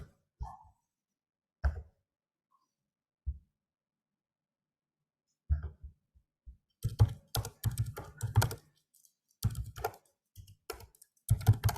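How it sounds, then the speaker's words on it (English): Computer keyboard typing at a desk, starting as a few isolated keystrokes separated by silence, then breaking into fast bursts of clicking near the end, close and fairly quiet. "I'm just typing make"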